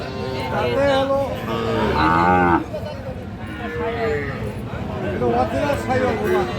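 A Sahiwal breed heifer on a farm moos loudly and close by in a long low call, followed by further softer lowing, while people talk nearby.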